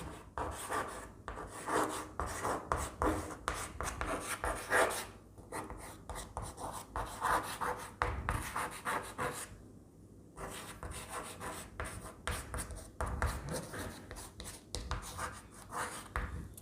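Writing on a board in a classroom, steady scratchy strokes and rubbing in irregular bursts, close and clear, with a brief pause midway and no one talking.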